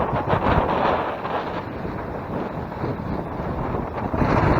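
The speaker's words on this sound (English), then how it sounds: "It's really windy today" Strong wind buffets the microphone on Stenner Creek Trail, San Luis Obispo, California, in a steady, loud rumbling roar with gusty swells, no voices.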